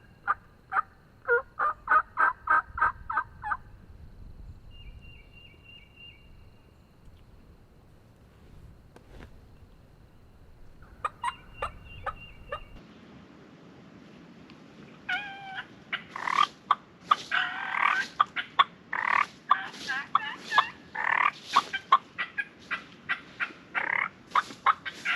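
A wild turkey gobbles repeatedly on opening day of the Alabama hunting season, with rattling gobble bursts at a moderate distance, quieter early calls and then a dense run of loud gobbling and calls over a low outdoor hum.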